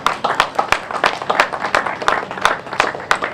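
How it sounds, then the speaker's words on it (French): Spectators at an outdoor event in Torcé-en-Vallée applauding, a cluster of distinct, sharp hand claps with an uneven rhythm, fairly close and moderately loud. "On peut vous applaudir, oui."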